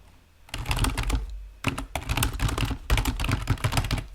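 A password is typed on a computer keyboard in quick clustered bursts of clicking keystrokes, close and fairly loud, broken by a short pause.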